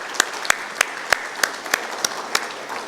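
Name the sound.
audience applause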